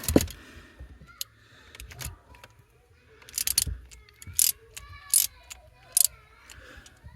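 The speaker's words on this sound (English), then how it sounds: "Ratchet's about to die as well." A ratchet wrench clicks in short bursts while tightening during a 12V battery isolator kill switch install, with several sharp rattling runs of clicks up close and quiet pauses between them.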